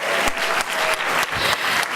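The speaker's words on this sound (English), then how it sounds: "Let's give Kathy Marsh a round of applause" Audience applause at a school district recognition ceremony for an honoree, dense steady clapping from a crowd filling the room throughout, loud and continuous.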